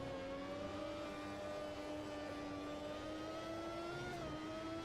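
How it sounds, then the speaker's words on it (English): A 1991 Formula 1 race car engine whines at a steady high pitch with slight pitch shifts during a Belgian Grand Prix in the Automobilista 2 racing game, a faint continuous drone with no talking. "Brake too late, didn't get the car around, and yeah, opened the inside for Herbert to slip through."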